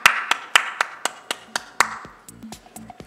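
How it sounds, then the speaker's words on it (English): Clapping rings out for panelists at a business panel discussion: a run of sharp, separate claps at a quick steady pace echoes in the room, with a few softer, looser claps trailing off after. "Please put a huge round of applause for all our wonderful panelists"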